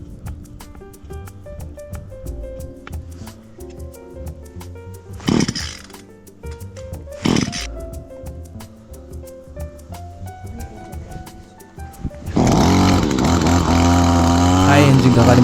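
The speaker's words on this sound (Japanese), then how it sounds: "エンジン式のね、 草刈り機で刈っていきます。" A gasoline engine-powered brush cutter, newly bought, pulled to start outdoors for cutting weeds: two short bursts of starter pulls, then the engine catches and runs loud and steady at close range with a buzzing, chainsaw-like roar.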